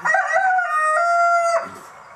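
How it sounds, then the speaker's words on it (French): A single rooster crow rings out close and loud, a long drawn-out cock-a-doodle-doo that cuts off abruptly near the end. "Vas-y, coq, montre-nous comment est-ce que tu chantes."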